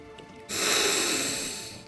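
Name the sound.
narrator imitating a dragon sniffing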